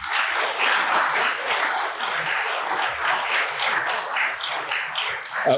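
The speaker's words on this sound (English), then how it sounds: "they also deserve a round of applause" Sustained applause from a crowd, dense and steady clapping throughout with no voices standing out.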